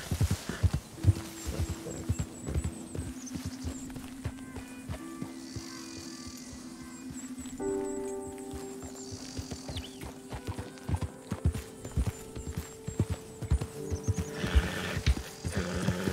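Hooves clip-clop in a steady rhythm with a horse neighing partway through, over a synthetic music-like drone and scattered game effects, in Red Dead Redemption 2.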